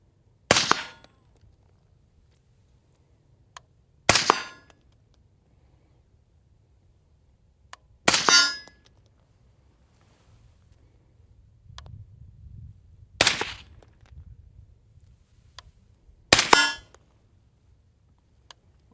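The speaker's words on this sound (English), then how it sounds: "we're just gonna have some fun in this video shooting ARs" Five sharp AR-15 rifle shots fired at long range, each a loud crack with a short decaying tail, spaced roughly three to four seconds apart over a quiet outdoor background.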